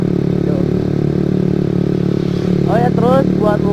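A Honda CB150R motorcycle fitted with a Pro Liner TR-1 long carbon exhaust runs at low RPM, giving a steady, deep, bassy drone throughout, with a person talking over it near the end.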